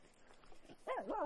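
Beside a glacial lake, a dog lets out a loud, wavering, drawn-out vocalization close by, rising and falling in pitch after a quiet stretch of soft background noise.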